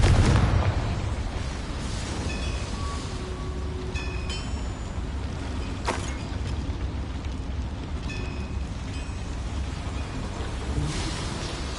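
A Confringo blasting curse explosion spell from a game, a dull, booming burst at the start followed by rumbling, rattling aftermath and a few faint pops, with a sharp crack around the middle.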